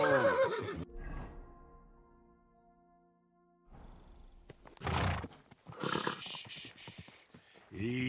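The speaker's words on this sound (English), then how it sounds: "Easy, good horse." A horse whinnies loudly and close by, then after a quiet stretch snorts and neighs again in several rough, breathy bursts.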